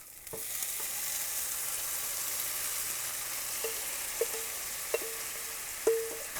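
Tofu frying in a pan, a constant soft sizzle close by with a few faint clinks and scrapes spaced through the second half, and no talking.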